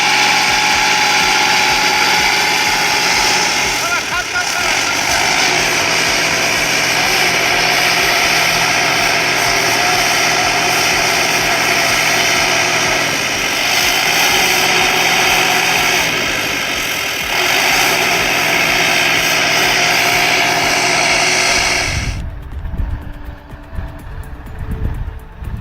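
A Belarus 82 tractor engine labours in deep snow, a loud, steady mechanical drone that holds for about twenty seconds before cutting away to quieter rumbling.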